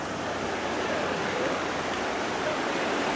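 Beaver Dam Creek, a mountain-fed creek as wide as a river where three streams merge, rushes in a steady, close broadband roar of flowing water with no pauses.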